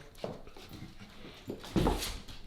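Several dogs whimper and pant in short, excited bursts just before heading out for a walk, the whines rising near the end and close to the mic.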